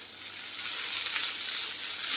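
Oil sizzling around a thalipeeth flatbread on a hot griddle, a dense, steady, close frying hiss that swells slightly, with no talking.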